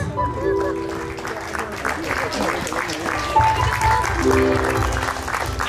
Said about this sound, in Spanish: Fuerte las palmas, señores.